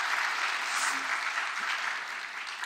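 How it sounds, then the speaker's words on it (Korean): A church congregation gives a round of encouraging applause for middle-school youth during a Friday worship service. The clapping is a steady, dense wash from start to finish. "그 격려의 박수로 좀 한 번 더 축복했으면 좋겠습니다"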